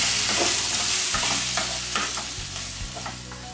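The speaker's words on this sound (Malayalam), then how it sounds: "prawns ഇതിലേക്ക് ഇട്ട് നന്നായി ഒന്ന് മിക്സ് ചെയ്യും" Previously fried prawns get stirred through a hot frying pan, giving a steady close sizzle broken by repeated scraping strokes of the spoon against the pan, with no voices.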